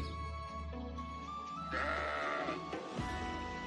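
Sheep bleating in the Fire Emblem Engage video game, several wavering bleats close by over a steady game music bed, the loudest call rising near the middle.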